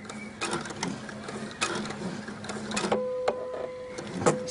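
Sewing machine stitching rib fabric along a V-neck neckline, a steady close mechanical whir and clatter that stops and restarts briefly, with a faint hum under it and no speech.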